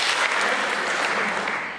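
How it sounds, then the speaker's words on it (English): A short burst of steady applause from a crowd at a startup pitch day, dense clapping that fades slightly at the end. "Let's give yourself a hand of applause here."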